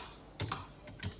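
A few quick keystrokes on a computer keyboard while typing a document in MS Word, soft close clicks in a short irregular cluster with no voice.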